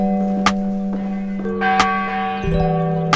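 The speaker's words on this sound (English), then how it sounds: "The clock bell." A clock bell chimes in several clear, ringing strikes with long sustained tones that overlap and linger, heard loud and alone.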